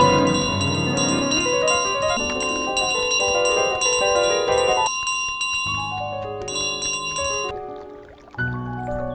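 Bell tones carried by a goose in Untitled Goose Game ring out over layered tonal game music, with repeated clear chimes and sustained pitches across the whole stretch, loud and close.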